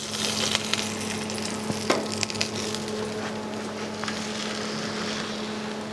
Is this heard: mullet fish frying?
yes